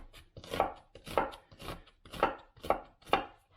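Onions cut finely with a knife on a board, six crisp, evenly spaced chops, close and clear with no talking.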